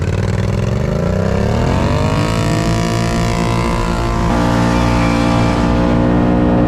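Polaris Scrambler 1000 ATVs pull away from a standing start: loud, close engines roar and climb steadily in pitch, then hold at a high, sustained drone.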